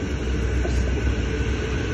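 Metro train at Dandenong Station in Australia, a close, loud low rumble with steady wheel and motor noise and a faint high whine above it, heard alone.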